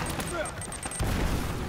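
Sniper gunfire in the action game Uncharted: sharp gunshot cracks and a burst of firing, then a heavier boom, loud and close, with a voice talking over it.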